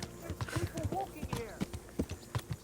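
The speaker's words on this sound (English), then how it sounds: "there's also horses walking here" Horses walking in Kingdom Come: Deliverance, with a steady clip-clop of hooves close by and a voice talking over them.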